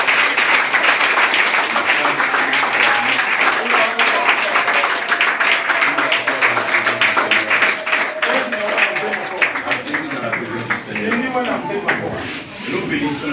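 A church congregation applauds in a long, dense wash of clapping, loud and close, with voices calling out beneath it throughout.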